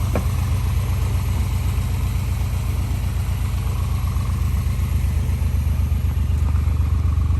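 A Honda car engine runs steadily close by, a constant low rhythmic chugging drone without any change in pace across the whole stretch.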